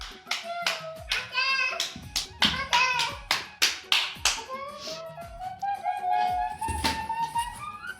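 A child clapping her hands in a steady run of sharp, close claps, with a voice and an adult talking over and between the claps.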